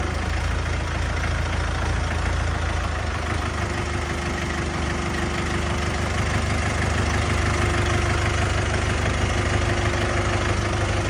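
A Jinma 404 40 hp tractor engine runs steadily at idle, a close, loud diesel rumble with constant vibration throughout and no break.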